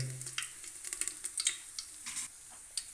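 Mustard seeds and curry leaves hitting hot oil for a mutton and goat lung fry, giving a quiet, close sizzle studded with sharp crackles and pops at an uneven rhythm, with no talk.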